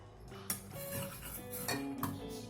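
Spoon scraping and clinking against a metal pan while mango rice is stirred together with peanuts, a few sharp taps over a steady soft clatter, close and moderately quiet.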